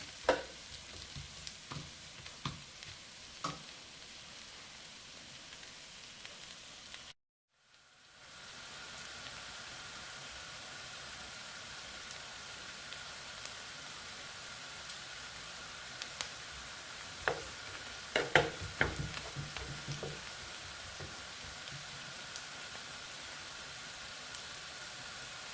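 Bottle gourd and prawn bhaji with spices simmers over low gas in a pan, giving a steady soft sizzle. A brief dropout comes partway through, and a few light clinks follow later.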